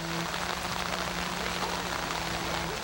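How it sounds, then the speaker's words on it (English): Hard, steady rain tapping down at the Majdanek concentration camp in central Poland, a dense, even hiss of drops that holds for the whole stretch, loud and close, with no talk over it. "That tapping sound you hear is a hard, steady rain."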